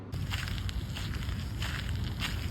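Steady crunching and grinding of gravel and sand, continuous and close, with no voices.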